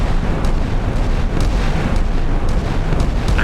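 Naval guns on an Italian Bergamini FREMM frigate firing in the Sea Power naval combat game, a dense, continuous rumbling barrage of booms with sharp bursts standing out over a loud, steady roar.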